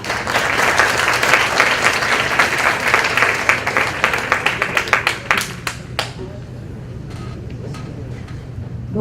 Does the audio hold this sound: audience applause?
yes